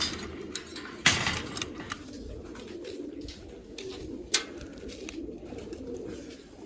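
Pigeons coo in a steady low murmur, with a couple of sharp clanks cutting through near the start and midway.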